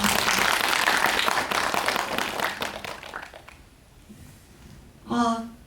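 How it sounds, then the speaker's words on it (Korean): Audience applause at a film screening talk builds into a steady wash of clapping, then fades away, followed by a brief burst of talking at the end. "박수 한번 부탁드립니다"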